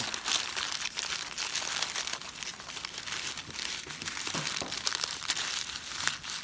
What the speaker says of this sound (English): you're going to get your piece of newspaper and you're going to scrunch it up, kind of twist it